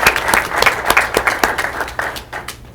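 Audience at a school board of education meeting applauds a coach who won a GMC Coach of the Year award: steady, fairly loud clapping from a roomful of people, thinning toward the end.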